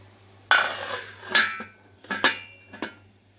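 A lid set on a cooking pot of simmering taro stolon curry clatters in several sharp metallic clinks and rattles, close by over a low steady hum.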